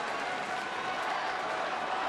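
Broad, steady roar of a baseball stadium crowd cheering and applauding during a Rockies at Padres game, sustained and even throughout.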